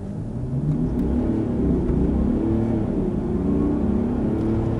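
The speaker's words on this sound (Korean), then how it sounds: "이렇게 정지 상태에서 풀가속할 때의 사운드도 한번 들어보세요." A Mercedes-Benz GLE 400d Coupe diesel SUV revs up and accelerates at full throttle from a stop, a steady smooth rumble and whir building close by with no talking.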